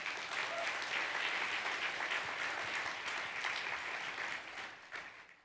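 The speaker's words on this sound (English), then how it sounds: "Let's give them all a round of applause." Audience applause for award recipients at a women-in-technology leadership awards event, a steady wash of many hands clapping that holds for several seconds before tapering off at the end.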